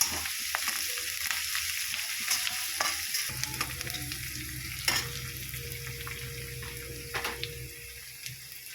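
Onions and green chillies fry in a pan with a steady close sizzle, stirred now and then with a few brief clinks and a faint running-water hiss in the background.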